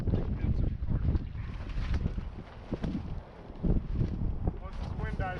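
Strong wind buffeting the microphone outdoors on a Chicago powerline fishing spot during coho salmon fishing, a loud continuous rumbling roar with gusts, and a voice talking underneath.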